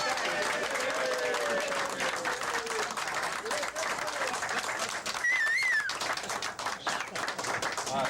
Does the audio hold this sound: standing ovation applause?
yes